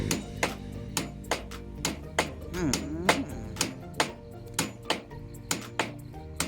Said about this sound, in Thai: เรามาตอกเข้าไปนะคะ